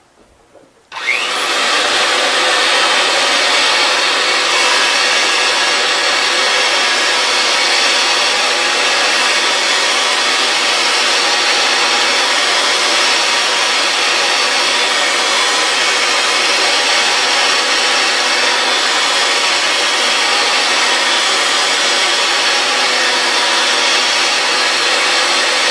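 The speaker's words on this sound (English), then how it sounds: "Now we're going to run the machine and apply a quarter turn of pressure per rotation of pipe until we cut" A Ridgid 300 threading machine runs steadily while its cutter cuts through a pipe end, giving a loud, continuous broadband whirring drone. It starts abruptly after a brief quiet moment and holds level throughout with no talk.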